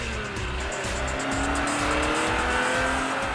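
A Ferrari sports car drives with a sustained engine drone and a rising whine, loud and close, continuing without a break for the whole stretch.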